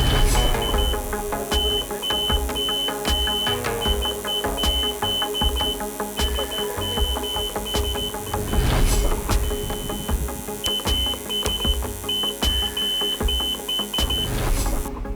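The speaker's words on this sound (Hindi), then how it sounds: "Buzzer for current." A geophysical resistivity meter's buzzer sounds while current is applied to the ground electrodes, giving a steady run of regular electronic beeps throughout, loud and close against a low background hum.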